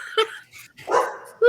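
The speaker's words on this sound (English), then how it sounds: "I think he's just barking at the joggers." A pet dog barks indoors, likely at passing joggers, giving a few short sharp barks and yips close by in under two seconds.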